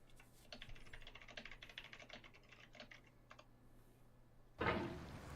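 Typing on a computer keyboard, with rapid, uneven clicks and clacks running for about four seconds at close range, then a brief louder rustle or thump at the end. No one speaks.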